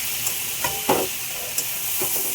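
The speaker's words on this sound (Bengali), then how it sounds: "এবার একটু হালকা হাতে নেড়ে চেড়ে নিচ্ছি" Cumin seeds and oil crackle in a frying pan while a spoon stirs them gently, soft scraping strokes over a steady close sizzle.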